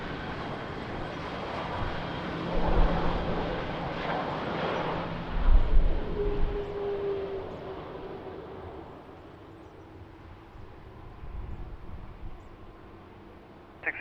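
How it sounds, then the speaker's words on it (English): A fixed-wing airliner landing in rain at Lisbon Airport produces a steady, distant engine roar that swells and fades over several seconds, with a brief rising tone in the middle. "Nice landing."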